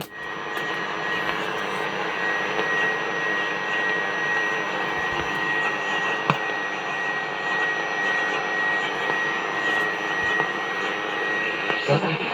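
A Pilot TR-80 radio tuned to the medium wave band gives a steady broadband hiss and static with a faint whistle tone, and a broadcast voice speaks under the noise throughout.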